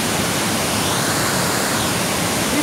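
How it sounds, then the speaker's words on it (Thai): Kaeng Sopha waterfall running high at the close of the rainy season, a steady, dense roar of falling water that fills the space evenly and continuously, with no voices. "มาเจอน้ำตกแก่งโสภา ในวัน ปลายฝนต้นหนาวครับ น้ำกำลังเยอะกำลังสวยเลยครับ"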